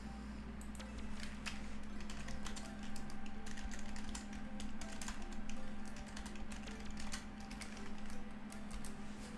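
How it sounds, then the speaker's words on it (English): Rapid, irregular clicking of computer keyboard keys runs throughout, close and steady, over a constant low electrical hum. "Okay, I'll type to you."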